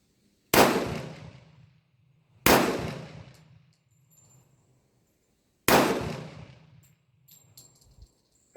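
Three sharp, loud pistol shots from a Tisas 1911A1 Service Special fired at a target, spaced a few seconds apart, each with a ringing reverberant tail fading into near silence.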